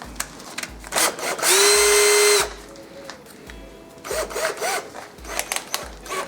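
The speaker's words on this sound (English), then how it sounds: "you want the smallest drill bit possible, because you want it to be as tight" An electric drill bores a small hole in a pipe while a diesel boost gauge is being fitted, giving one loud, steady whine of about a second, framed by quieter handling clatter and knocks.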